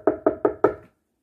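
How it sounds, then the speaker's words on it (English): Four firm knocks on a door come evenly spaced and close, the last slightly stronger, then silence, heard alone as part of a read-aloud children's story. "they heard a knock at the door"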